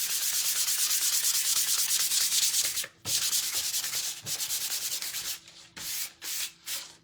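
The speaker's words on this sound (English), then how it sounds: "it's 320 grit, so it's really, really fine. I'm just going to take the sandpaper to it for a second." Fine 320-grit sandpaper rubs by hand across a painted surface in quick, steady back-and-forth strokes, close and dry, with a short pause midway and a few separate final passes.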